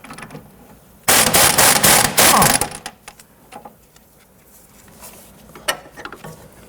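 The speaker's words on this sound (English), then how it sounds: "Using a 15mm socket, we're going to go ahead and loosen and remove the nut on the lower portion of our sway bar end link." Ratchet wrench with a 15mm socket loosening the sway bar end link nuts on a 1992-1996 Toyota Camry front suspension, a loud burst of rapid clicking for about two seconds, then scattered fainter clicks.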